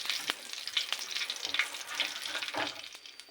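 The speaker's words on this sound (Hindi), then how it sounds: "अब हम इसके अंदर गार्लिक ऐड करेंगे। या 1 मिनट के लिए आप लोग इसे फ्राई कर लें।" Garlic frying in a pan for a chicken pasta dish, a steady close sizzle with crackling pops and occasional stirring scrapes, no voices.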